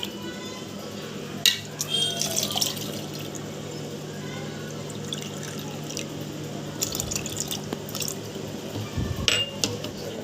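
Water, about one and a half cups, is poured into a mixer-grinder jar for mango juice: a faint, steady trickle with small drips and a few light glassy clinks, close and quiet.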